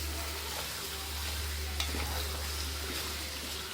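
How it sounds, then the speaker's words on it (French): Goat meat browns in hot oil in a cooking pot, giving a steady close sizzle with faint stirring scrapes and a low hum underneath, no talking. "Donc vous faites revenir légèrement votre viande dans l'huile."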